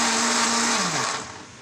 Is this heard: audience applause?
no